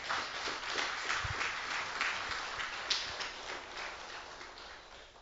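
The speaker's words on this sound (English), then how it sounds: "And I think he deserves a round of applause." Faint applause from an audience at a correctional facility awards ceremony, a soft patter of clapping that slowly fades, heard alone.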